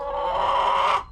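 One backyard chicken gives a single drawn-out, close, clear squawk of about a second, then falls quiet.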